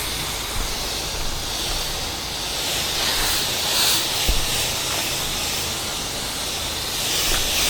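Steady pressurized hiss of roof cleaner being sprayed as a light secondary coat on a large roof in Orlando, continuous and broadband with no talking.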